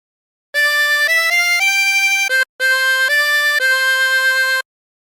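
A chromatic harmonica plays a phrase of Hark The Herald Angels Sing in sustained, steady reedy notes, close and clear, with one short pause midway and no other sounds.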